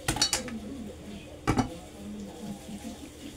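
Clinking of a ladle and spoon against a dish while soup is spooned onto rice for a pet dog, with a quick cluster of metallic taps at the start and another near the middle, then quiet scraping.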